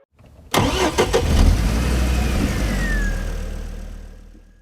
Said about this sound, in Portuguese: E vemos Alonso indo para cima do Trulli na volta 29 e ultrapassando seu ex-companheiro de equipe